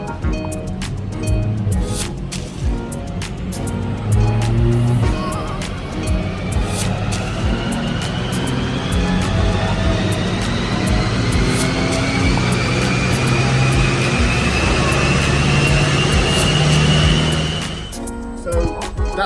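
A BMW M3 engine revs on a dyno run, a loud sustained roar with pitch climbing steadily for over fifteen seconds before cutting off abruptly, with faint voices beneath.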